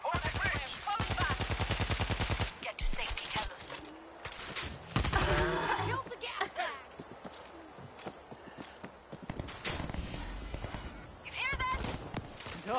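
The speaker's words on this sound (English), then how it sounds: "Gunfire up ahead." Rapid gunfire bursts from the zombie shooter World War Z, fast repeated shots and heavy weapon fire mixed with game effects and a character's speech, loud and continuous across the scene.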